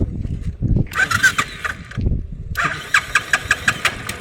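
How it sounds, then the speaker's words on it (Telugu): A diesel engine cranks and turns over twice, with rhythmic clattering bursts between lower rumbling stretches. "డీజిల్ ఇంజిన్ ఇది"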